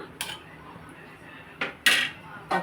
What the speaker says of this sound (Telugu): ఇప్పుడు మనం ఇలా కలిపేసుకుని మూత పెట్టుకుందాం